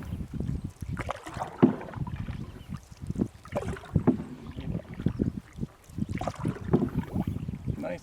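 A canoe paddled solo across a lake in Algonquin Park, with steady rhythmic paddle strokes and water splashes close by, repeating every second or two, backed by light wind noise and no talking.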